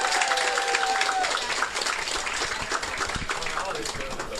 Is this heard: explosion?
no